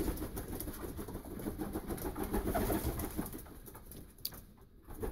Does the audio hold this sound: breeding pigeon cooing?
yes